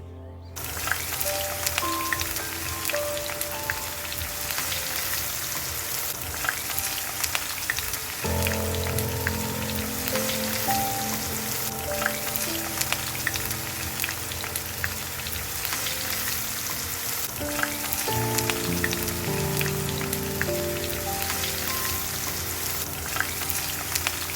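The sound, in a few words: chopped onions being stir-fried in a pan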